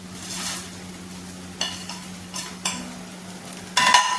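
A utensil scrapes and stirs cashews, peanuts and chickpeas in a frying pan in several short strokes over a soft sizzle, ending with a louder metallic clatter.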